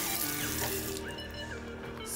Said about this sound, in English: So I'm gonna take a shower.